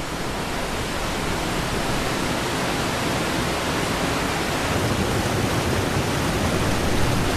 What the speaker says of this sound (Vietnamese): Khối lượng nước khổng lồ của hồ Constant đổ xuống cùng với một âm thanh chói tai.